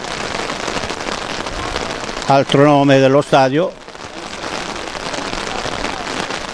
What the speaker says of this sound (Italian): Piove al Maro Simone